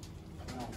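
Pigeons kept by a young hobbyist coo softly and briefly close by, mixed with a brief human voice.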